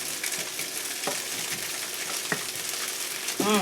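Sticky tofu frying in a pan while being stirred, a steady close sizzle broken by a few soft scraping strokes and a brief squeaky scrape near the end, with no talking.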